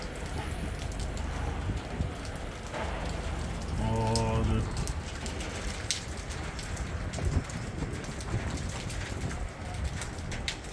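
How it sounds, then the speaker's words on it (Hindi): Heavy rain pours down steadily at Batakundi in northern Pakistan, a dense patter on surfaces with occasional louder splashes and a brief tonal sound partway through. "बारिश बहुत तेज़ है।"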